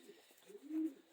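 Blue bar splash hen pigeon giving a single low, soft coo that swells near the end, close and quiet with no other sounds.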